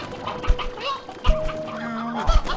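Chickens in the Slime Rancher 2 video game cluck in short bursts, a few soft clucks with brief tonal calls between them, fairly close.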